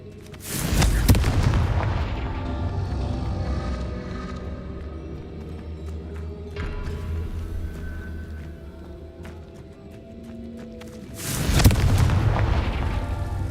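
Two loud, booming blasts from the Confringo fire spell in Hogwarts Legacy, one near the start and one near the end, with a rumbling game backdrop and scattered effects in between.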